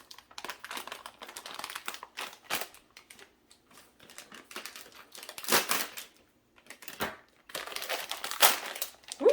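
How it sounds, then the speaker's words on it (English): A bag of Nestle white chocolate chips is torn open, with bursts of close plastic crinkling and crumpling that come and go over several seconds, some louder rustles near the end. "Ooh, that bag opened up quickly there."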